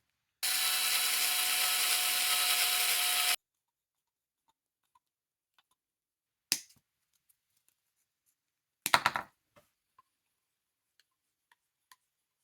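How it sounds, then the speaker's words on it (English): An electric screwdriver drives screws into RC portal axles, whirring steadily for about three seconds, followed by sparse clicks and two short bursts of handling or brief tool bursts in an otherwise quiet room. "I like to use the electric screwdriver on these longer screws to make it quicker"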